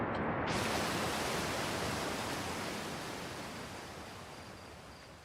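Waterfall in the Outer Wilds video game, a dense, steady broadband roar of rushing water that swells in abruptly and holds close and loud throughout.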